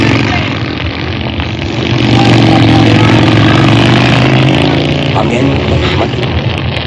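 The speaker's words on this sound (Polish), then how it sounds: "Motory tak biją." Engines pound with a heavy, continuous low rumble that swells and holds loud throughout, a steady mechanical drone filling the scene.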